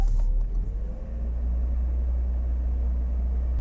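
A BMW engine idles high, around 1500 rpm, after being shifted into park with its idle screw adjusted, a steady close, loud rumbling hum running throughout with no talk.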